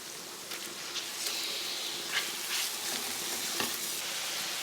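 Steady, dense sizzling of ground beef frying in a hot pan, with occasional stirring scrapes and pops, close up and continuous.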